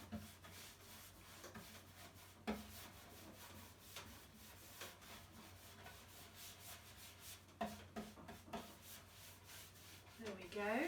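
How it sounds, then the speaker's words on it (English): A brush works wax over a wooden bedside table, producing soft, continuous rubbing and swishing strokes with a few louder scuffs, quiet and close. "I'm brushing it around in different directions so that I get the wax into all of my brush strokes there"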